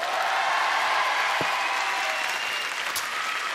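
A large television studio audience applauds loudly and continuously, a thick wash of clapping with a few sharper claps standing out.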